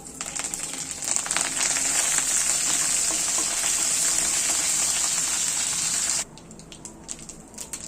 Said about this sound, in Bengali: শুকনো লঙ্কা, একটু ভেজে নেব। তারপর দিয়ে দেবো কারি পাতা।